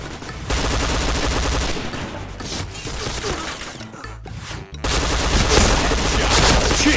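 Rapid bursts of gunfire from the online shooter game Point Blank Indonesia fill most of the stretch, loud and dense with a brief lull near the middle before the firing resumes.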